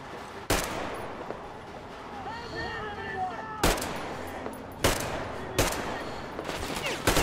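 Gunfire in the video game Metro Exodus: loud, sharp single shots at irregular intervals, five cracks in all, with quieter in-game ambience and whistling tones between them.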